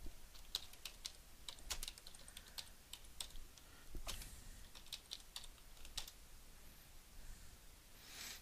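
Fingers tap on a computer keyboard in quick, irregular clicks, quiet and close, as a description is typed with no talking.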